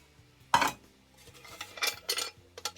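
Aluminium Trangia mess kit pots and a small pan are handled, giving one sharp metallic clank followed by several lighter clinks and knocks, close and quiet with no talking.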